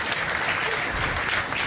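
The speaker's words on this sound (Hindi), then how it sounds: "ताली" Audience at a teachers' coaching class award ceremony in Bihar breaks into steady, dense applause, a continuous wash of clapping with no pauses.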